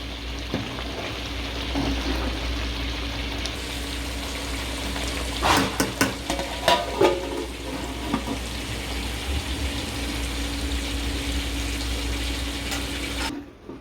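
Rice boils steadily in water under a lid in a covered pot, a low continuous bubbling and simmering hiss that runs throughout, with a short burst of louder clatter partway through.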